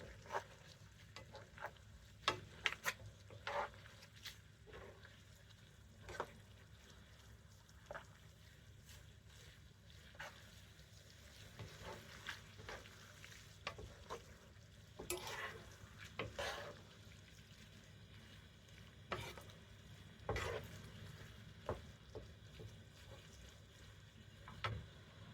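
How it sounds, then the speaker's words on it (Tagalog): Noodles are stirred and tossed in a pan during stir-frying with seafood powder, giving a faint background sizzle broken by soft scraping and clinking of a utensil against the pan at irregular moments, with no talking. "Let's mix it so that the 2 noodles would combine."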